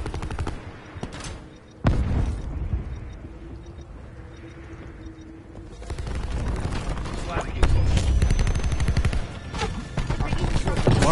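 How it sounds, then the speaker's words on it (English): A war machine firing guns in a video game, bursts of rapid gunfire and booms swelling and fading over a noisy battle backdrop, with a voice speaking at times. "War machine firing."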